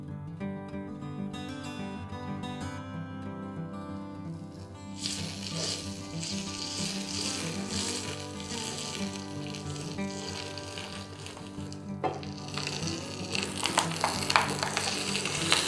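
Marinated fish laid with leaves in sesame oil on a hot tava sizzles and crackles steadily and loudly throughout, intensifying with bursts of spitting near the end.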